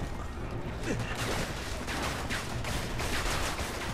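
Gunfire from the video game Resident Evil 6, a steady crackle of shots sounding without pause across the moment, mixed into a dense backdrop of game noise with no clear gaps between bursts.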